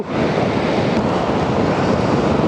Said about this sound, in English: We might be getting some waves crashing on this pier wall.